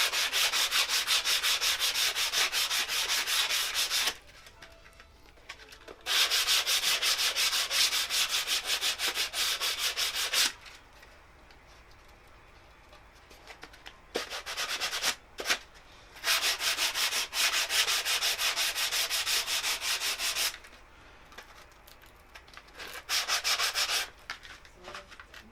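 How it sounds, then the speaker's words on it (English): Fine sandpaper rubs along the edge of an icon panel in steady, rapid back-and-forth strokes, close and clear, in several bursts separated by short quiet pauses. "So it's fairly fine sandpaper, and we just sand along the edge."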